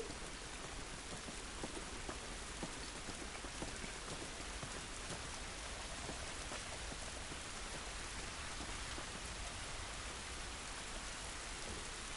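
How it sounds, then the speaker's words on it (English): Steady rain falls outdoors in the video game The Last of Us, a dense, even hiss of drops on surfaces that holds without pause, with no voices. "This rain ain't gonna do us any good."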